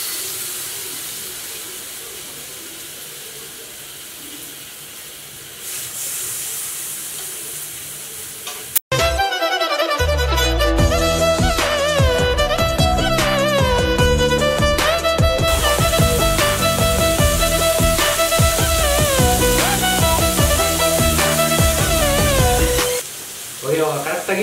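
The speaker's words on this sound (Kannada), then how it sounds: "ಫಿಶ್ ಹಾಕ್ಬಿಡೋಣ." Nilgiri fish tikka pieces dropped into hot oil start to sizzle with a loud, steady frying hiss, after quieter kitchen sounds and talk, while background music plays over the whole cooking.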